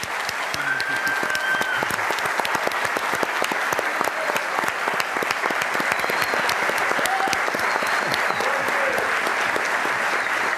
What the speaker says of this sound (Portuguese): eu peço uma salva de palmas para os nossos 5 debatedores